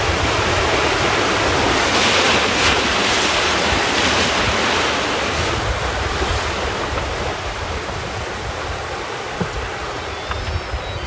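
Sea waves wash and churn behind a boat's stern out in open water, a loud, continuous broadband rush with wind buffeting the microphone throughout and no speech.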